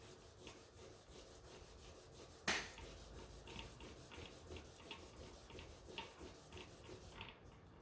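Steady rhythmic rasping of hand sanding a small silver ring made from a Morgan silver dollar, repeated back-and-forth strokes with one sharp knock near the start.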